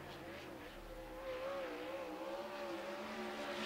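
Steady engine drone of a World of Outlaws sprint car lapping Port Royal Speedway in qualifying, heard from a distance as a continuous roar with a slowly shifting pitch.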